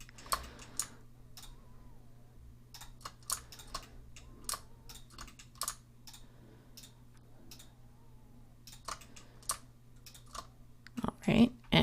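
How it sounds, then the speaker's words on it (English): Computer keyboard keys and mouse buttons click sparsely and softly at an irregular pace over a low steady hum, with a louder cluster of clicks at the end. "So we just Alt and click on every other and hold Shift to click multiple."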